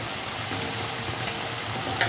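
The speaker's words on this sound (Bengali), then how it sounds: "আবারও আমি সেম প্রসেসে সবগুলো ভেজে নেব" Modon kotkoti sweets frying in oil, a dense, even crackling sizzle filling the whole stretch, close and steady with no voices.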